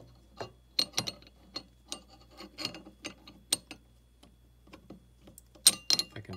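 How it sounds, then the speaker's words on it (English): An AK-47 underfolder bolt is worked into a hand-tight barrel, a series of small close metallic clicks and scrapes in quick irregular bursts, quiet and without talk. "you can see if I put the bolt in there"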